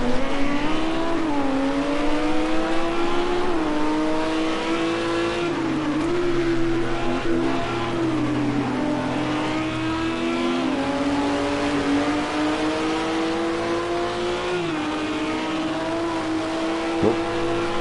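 A British GT race car at Snetterton holds a steady, loud engine note that rises and falls as the revs pick up and ease off, continuous and close, with no talk over it.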